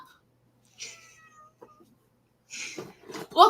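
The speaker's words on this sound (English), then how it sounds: "twitches her nose, and then meows louder" A cat meows several times in quiet surroundings, a short cry first, then a longer and louder burst of meows at the end, close by with no talking.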